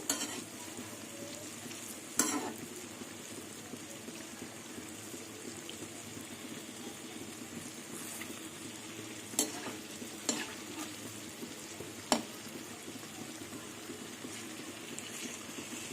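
Semolina and palm fritters frying in oil as they are flipped, a soft continuous sizzle with several sharp clicks from the utensil scattered across the stretch.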